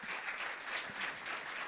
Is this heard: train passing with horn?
no